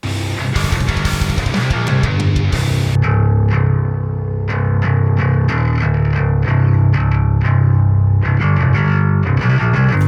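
Heavy distorted metal bass guitar from amp sims, chugging with a thick low end boosted by an analog Harrison console EQ, loud and continuous, with a brighter crunchy attack on each note.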